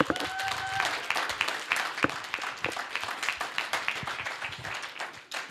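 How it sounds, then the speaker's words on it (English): Applause from an audience at a church teen retreat: a loose, quieter round of individual claps with distinct sharp hand strikes, thinning out toward the end. "you guys to give Larissa and Jason and Saul a round of applause."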